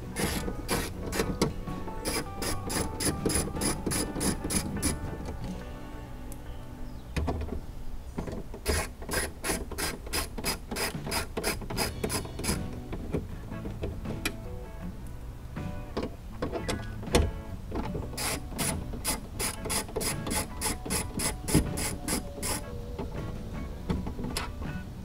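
A hand ratchet clicks rapidly in several bursts while bolts are backed out of a Chevy Cruze door, with close, crisp pawl ticks separated by short pauses and light handling noises.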